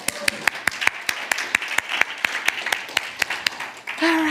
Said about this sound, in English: So give yourself a round of applause for being new.